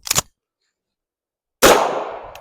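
A handgun slide is racked to reload: a sharp short metallic snap, a brief pause, then a louder clack with a ringing decay, close and isolated, no talking.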